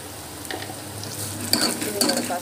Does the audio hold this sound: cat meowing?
no